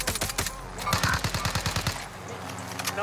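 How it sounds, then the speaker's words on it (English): Automatic gunfire in the video game Call of Duty: Warzone, rapid bursts of shots in quick rhythmic succession, with a player's voice chat underneath. "Taking fire over here."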